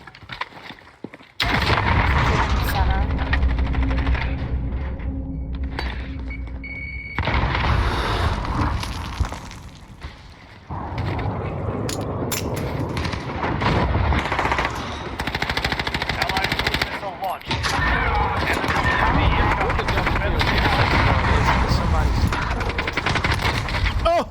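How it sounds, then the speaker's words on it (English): Dense, continuous gunfire and explosions from a video game livestream, rapid bursts layered into a loud, unbroken battlefield roar with brief drops, while a player talks over it. "all I heard is explosions everywhere"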